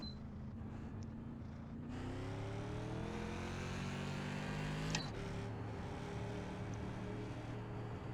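A modified NASCAR Tour race car engine in iRacing at New Hampshire fires up and drones steadily, then climbs in pitch as it revs, with a sharp click near the end. No one speaks.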